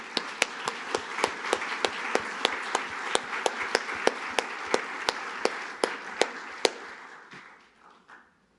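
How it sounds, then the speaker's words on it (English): Audience applause at a plenary panel of a Sarajevo conference, with one sharp, regular clapper close by over a softer wash of hands that dies away toward the end. "I'd ask you just one round of applause for these excellent presentations"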